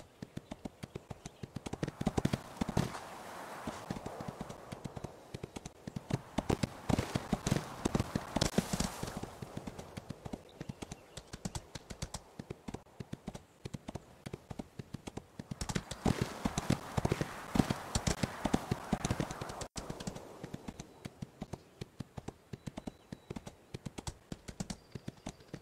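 Horse Ostwind galloping in the Ostwind video game, a steady run of rapid clip-clop hoofbeats that surges louder in two long stretches and eases between them.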